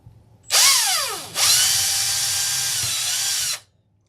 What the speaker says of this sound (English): I gotta drill all my own holes just for these nails